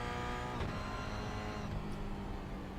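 A Toyota GR86 race car's engine runs near full throttle with a loud sustained drone, heard from inside the car.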